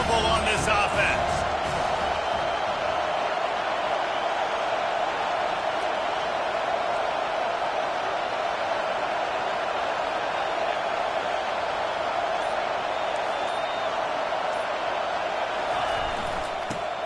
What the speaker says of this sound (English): this crowd is making it miserable on this offense